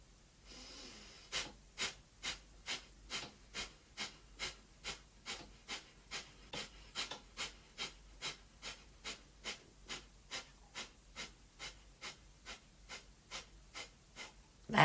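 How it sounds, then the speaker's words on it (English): Forceful exhales pushed out through the nose with the abdominal muscles, a steady run of about thirty short sharp puffs at an even brisk rhythm, close and alone with no talk. "No, only exhale, exhale, exhale."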